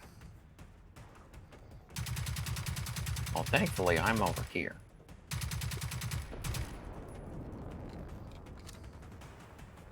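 Sustained automatic gunfire aimed at a robot tank in the game Generation Zero, a loud rapid rattling burst of several seconds, a short pause, then another burst fading into rumbling echo, with someone talking briefly over it.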